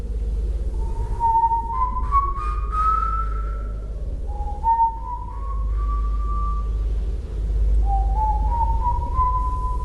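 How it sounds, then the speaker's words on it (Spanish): A man whistles a song in slow, rising melodic phrases, loud and close over a low steady hum, with short pauses between phrases and no talking. "Nunca me había dado tanto gusto escuchar esa canción que siempre iba silbando mi papá"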